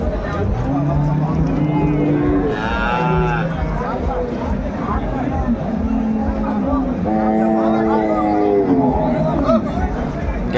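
A cow with a calf moos loudly, then again longer later, over steady engine-like rumble and constant crowd chatter at a busy outdoor cattle market in Ambari.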